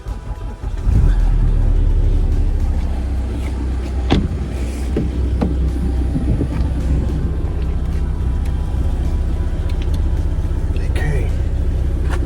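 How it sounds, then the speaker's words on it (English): A car cranks and its engine catches about a second in, then settles into a steady, loud, close running rumble with small clicks and rattles over it. "So let's start the car."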